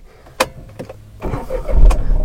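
A Tata Tiago XT hatchback engine cranks and catches after a few clicks, then settles into a low, steady rumbling idle up close.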